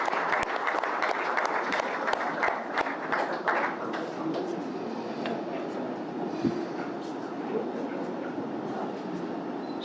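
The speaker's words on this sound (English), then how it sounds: "Can we have a round of applause as we welcome on stage Mr." At an awards ceremony, an audience applauds as ICC chairperson Jai Shah is welcomed on stage. The clapping comes from a large hall and is crisp and sharp at first, then settles into a softer, sustained wash.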